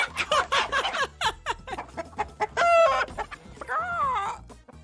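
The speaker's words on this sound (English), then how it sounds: "chicken is so loud" Loud, close chickens in the video game Bug Fables cluck in quick bursts, with a rising crow-like squawk near the middle and a drawn-out call toward the end, all over a low repeating game-music pattern.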